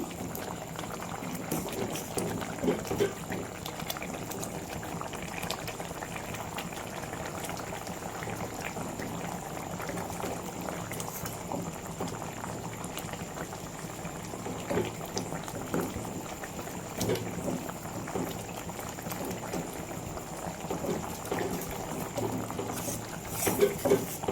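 Masala vadas simmer in a tamarind stew, a steady close bubbling that runs unbroken throughout with no voices.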